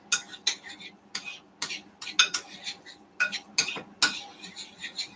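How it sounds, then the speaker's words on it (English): Spoon scraping and clinking against a bowl while mashed potato filling with garlic is mixed, a steady run of close, loud clatters and stirring scrapes with brief pauses. "So I'm just going to mix everything together."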